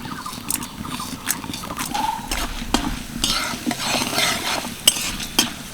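Chana dal and urad dal fry in hot oil in a pan, a soft sizzle under repeated scraping and clinking stir strokes from a spoon against the metal, close and moderately loud with no talking.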